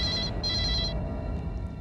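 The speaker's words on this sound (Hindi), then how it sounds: "Come on, pick up the phone" A telephone rings insistently in a tense crime-drama scene, two bright electronic trill bursts with a short gap between them, loud and close, then fading into the room tone.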